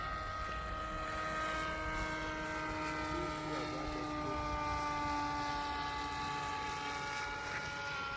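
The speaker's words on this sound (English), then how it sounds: "Aircraft preparing for landing." A scratch-built model helicopter flying outdoors gives a steady, whining rotor and motor drone with sustained tonal hums, held at constant loudness while people talk nearby.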